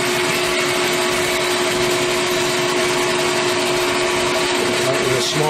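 A power drill whines at a steady high pitch, drilling about 1.5 inches into a metal hub, running continuously and loudly with a constant grinding hum.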